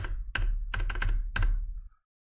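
Keys with lubed stabilizer pads are pressed on a mechanical keyboard, giving five or six close, deep thocking strikes in an uneven rhythm. Each press is a short, muted clack, and the sound ends in silence.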